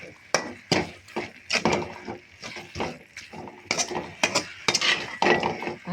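Drumstick leaves thokku is stirred in a pan, with irregular scraping clinks and knocks of a spoon against metal, close and fairly loud, while a voice talks in places.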